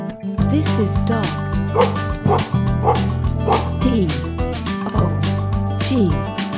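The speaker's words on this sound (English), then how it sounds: "Dog. This is dog." A dog yips and barks in a rhythmic series of short, close calls over background music.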